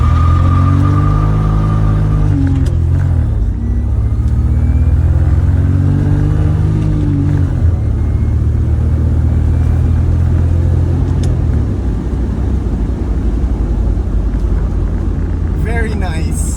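A 1995 BMW E36 325is engine rumbles and revs up and down while its limited slip differential is tested, with a loud, steady, close drone throughout.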